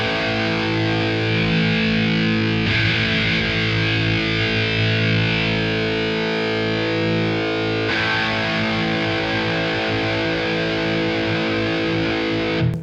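Thick, buzzing distorted electric guitar chords through a Victory V1 Kraken high-gain amp with scooped mids ring out continuously, heavy and saturated with a hollowed-out midrange, changing chord twice without any talking.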